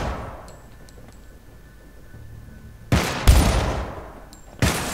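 Two bursts of rapid gunfire break a quiet, hissy background, sharp and loud, from the video game Syndicate.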